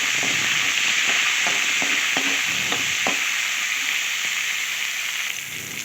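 Fenugreek and coriander leaves fry and are stirred in a pan of curry, giving a steady loud sizzle with repeated scraping stir strokes throughout, no talking.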